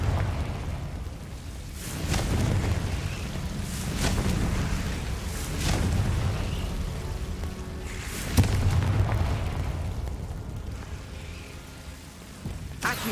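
Confringo explosion spells cast in the video game Hogwarts Legacy, several booming blasts with crackling debris spaced a few seconds apart over a continuous rumbling game ambience, no talk.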